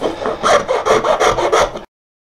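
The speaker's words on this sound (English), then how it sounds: "let's try a rasp on here" Rasp filing wood on a homemade sand rammer, shaping near a sharp shoulder; about seven quick, rhythmic rasping strokes, close and loud, then silence.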